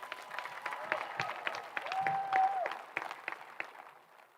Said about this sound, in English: Big round of applause for Antonio, please.